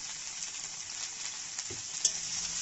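Okra stir-fries in a pan with salt and turmeric, giving a soft, steady hiss and sizzle with occasional light clinks and scrapes from stirring, heard close and fairly quiet.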